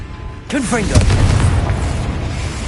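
A Confringo spell blast in Hogwarts Legacy erupts as a loud booming burst after a rising magical whoosh, followed by a rumbling tail that lingers to the end.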